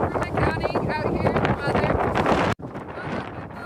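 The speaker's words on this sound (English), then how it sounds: "Strong winds battering Brighton" Strong wind gusts blow snow in Brighton, Utah, a loud, rushing roar buffeting the microphone that cuts off abruptly partway, then resumes.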